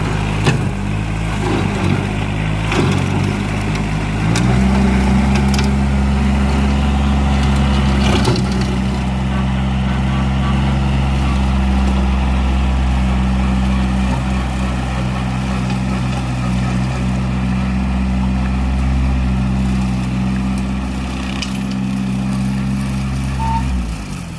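A used Japanese Kubota walk-behind tractor engine runs steadily at close range, a loud, continuous low idle drone throughout.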